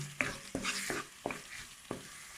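Onions sautéing in coconut oil, a soft, fairly quiet sizzle broken by about five distinct spatula knocks and scrapes at an uneven rhythm.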